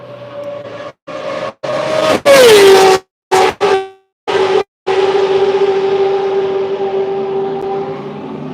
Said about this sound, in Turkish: Anladığım kadarıyla güzel bir yarış simülasyonu devam ediyor.